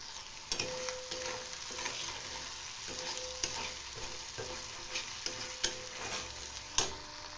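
Masala paste stirred and frying in oil in a pan for a vegetable dish: a steady close sizzle runs throughout, broken by the scrape and clack of a spoon against the pan roughly every second.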